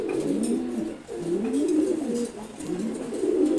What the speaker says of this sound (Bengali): রেড চেকার্ড কবুতর, নর কবুতর